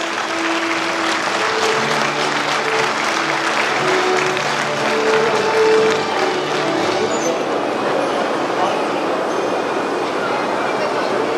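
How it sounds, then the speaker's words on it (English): A large audience claps at a school auditorium inauguration in New Delhi, sustained dense applause running the whole stretch with a murmur of voices and a faint sustained tone beneath. "may I ask all the audience to give a big round of applause"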